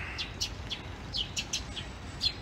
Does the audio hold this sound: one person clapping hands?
no